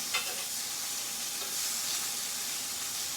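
Ginger chicken pieces for wraps sizzle on a grill, a soft, even, continuous hiss at low level with one faint knock near the start and no talk.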